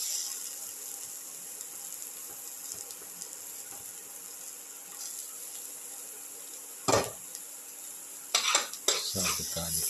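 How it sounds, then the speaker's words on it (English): Garlic and shallots sauté in a pan with a soft, steady sizzle, broken near the end by a few louder scrapes and clatters of stirring. "saute the garlic and the shallots again"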